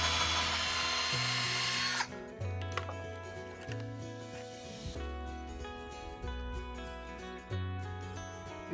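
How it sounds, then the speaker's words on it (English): A power drill drives a 3-inch deck screw through boards for a broiler chicken coop, its motor whining in repeated pulses of varying pitch as the screw bites into the wood, close and fairly quiet. "drill that 3-inch deck screw through them"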